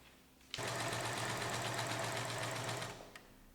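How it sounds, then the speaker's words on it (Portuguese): A sewing machine stitches a seam on a simple cushion, a steady fast whirring run of about two and a half seconds that starts abruptly and winds down, close and alone without talk. "E aí agora nós vamos para a máquina e vai ser feita uma costura aqui e outra aqui."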